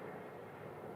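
A United airliner, flight 1264 from Houston, on approach to Phoenix, heard as a steady, even jet engine roar at a distance, fairly faint and without voices.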